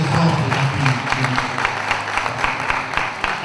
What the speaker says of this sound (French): Qu'on applaudisse très fort pour Nakul.